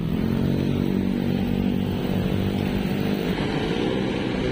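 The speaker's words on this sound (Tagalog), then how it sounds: "Uy, ang tutuli ng mga motor." Loud motorcycle engines roar continuously on a bridge in Navotas at dusk, a steady dense drone of passing bikes close by with no talk.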